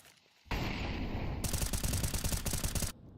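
Rapid rifle gunfire in a competitive esports shooter match, a dense sustained burst of shots that starts abruptly and runs for a couple of seconds before cutting off, loud and with no talk.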